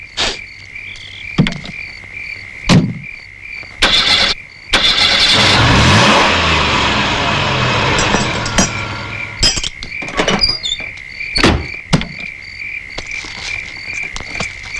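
A car engine is cranked and started after a carburettor blockage from dirt, with a few short starter bursts and then the engine catching in a loud surge that settles to an idle, with insects chirping in the background.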